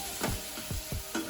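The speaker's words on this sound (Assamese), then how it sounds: "মছলাখিনি অলপ দেৰি ভাজি থাকিব লাগিব" Spice paste of onion, tomato and ginger-garlic with meat masala fries in a pan, giving a soft steady sizzle broken by about five quick scraping stirs of a spoon.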